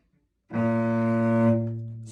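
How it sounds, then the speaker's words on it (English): A single low cello note is bowed and sustained for about a second and a half, rich and steady, before it fades out. "this is the note kind of near the bottom. And this is what that note sounds like"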